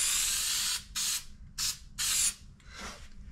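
Aerosol coating sprayed onto a cracked car dashboard in four close hissing bursts, each about a third to three quarters of a second long, followed by a softer short spray.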